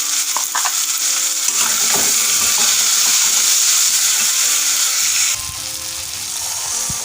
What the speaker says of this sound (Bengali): মশলাটাকে ভালো করে কষে দেবো। খুন্তি দিয়ে এইভাবে